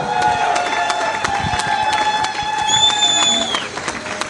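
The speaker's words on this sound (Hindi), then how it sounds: "जोरदार तालियां दोस्तों।" An audience at a business seminar bursts into loud applause and cheering to welcome speakers, with dense rapid clapping throughout, whoops and a rising swell midway before it tapers off.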